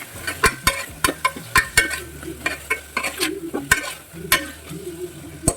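Chicken with ginger garlic paste sizzles in a pan while a utensil stirs and scrapes it, giving sharp irregular clinks and scrapes over a steady frying hiss, close and fairly loud.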